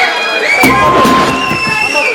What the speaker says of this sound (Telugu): ఇంకొంచెం హుషారుగా మీ శక్తి మేరకు చప్పట్లు కొట్టాలి